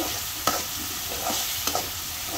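Shrimp stir-fried in a pan, a constant close sizzle broken by two or three quick scraping stirs of a spatula, with no voices present.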